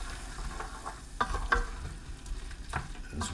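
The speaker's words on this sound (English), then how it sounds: "I'm going to mix all that in" Coriander being stirred into a lamb curry in a pan, soft sizzling under a few distinct spoon scrapes and knocks against the pan, close and quiet, no talking.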